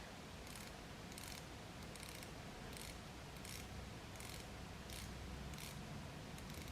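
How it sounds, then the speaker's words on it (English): Unidirectional 120-click bezel on a Seiko 5 Sports SRPD73K watch being rotated, giving about nine evenly spaced crisp clicks, one roughly every 0.6 seconds, quiet and close against a soft steady background hiss. "I'll rotate the bezel so you can listen into the clicking sound that this makes."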